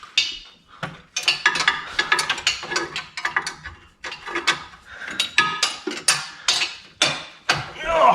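An impact wrench fitted with a swivel extension and socket works on a Jeep ZJ 4.0L exhaust, firing in short, repeated rattling bursts with gaps between them, close by.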